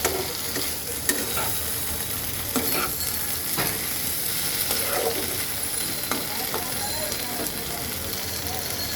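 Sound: stirring Bengali fish curry as water is added for the gravy

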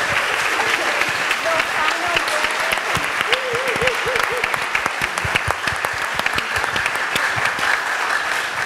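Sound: audience applause at the end of a museum talk

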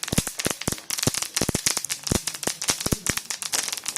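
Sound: chutney ingredients crackling while roasting

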